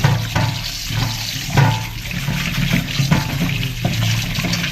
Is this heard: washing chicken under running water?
yes